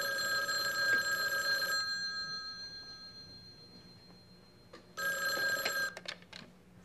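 A household telephone rings twice in a sitcom home, bright electronic bursts about two seconds long separated by a quiet gap, heard close with no voices.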